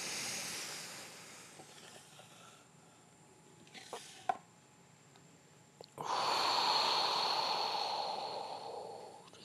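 During a yoga stretch for lower back strength, rounding the back in a tabletop pose, a person breathes slowly and deeply. Quiet, airy breathing comes first, then a long, loud, breathy exhale that carries on to the end.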